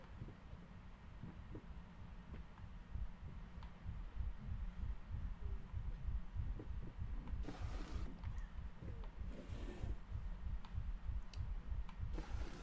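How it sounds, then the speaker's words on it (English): Slow, steady heartbeat pulses thud low and close throughout a quiet, eerie room in the Layers of Fear horror video game, over faint hum with a few soft clicks and brief noisy bursts near the end. "Oh, heart's beating."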